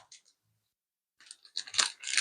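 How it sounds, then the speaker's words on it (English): Scissors snip and slice through a plastic bag, giving a few crinkly, tearing crunches after a brief quiet pause, close by and moderately loud. "And I'm going to just cut this plastic bag."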